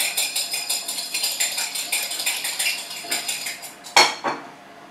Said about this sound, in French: important de dissoudre votre moutarde et votre sel dans le vinaigre